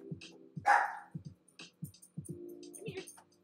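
A pet dog indoors lets out a few short, faint barks and yips, scattered among soft low murmuring, quiet and close with no clear speech.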